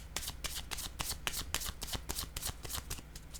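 Tarot cards being shuffled and handled up close during a reading, a rapid, even train of crisp card riffles and flicks with no voice over them.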